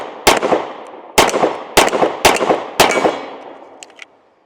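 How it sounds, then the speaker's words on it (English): Smith & Wesson Shield X Performance Center pistol fired one-handed, five loud sharp shots at irregular spacing, each with a ringing outdoor decay, and no talking. "one-handed shots with her is very comfortable as well."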